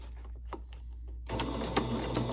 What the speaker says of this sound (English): And I just start sewing